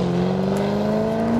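A small black buggy accelerates at a drag strip test and tune day while struggling to find its gears, giving a steady rising engine drone throughout a short, loud, close stretch with no voices.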